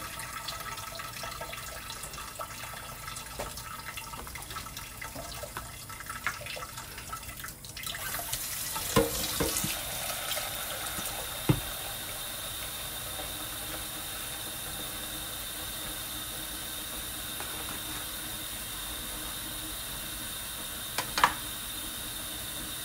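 Steady rush of water from a tap running continuously, with a few clinks and knocks near the sink partway through.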